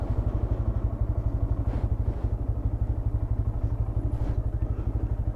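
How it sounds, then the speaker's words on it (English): Pit bike engine on park trails, a steady rapid thumping putter that is close and loud, likely the rider's own machine, with no clear pass-by swell. "Oh, look, this guy has a pit bike too."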